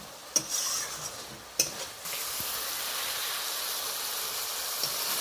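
Spice paste sizzles in hot oil as it is stirred, a steady bright hiss broken early by a couple of sharp scraping knocks from the utensil against the pan, close and fairly quiet.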